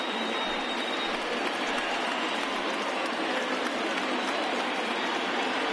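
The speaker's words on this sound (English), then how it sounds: "listen to this crowd now. They are really into this." A baseball stadium crowd in MLB The Show 20 cheers in a continuous, dense wash of noise that holds steady from start to finish, with no talk over it.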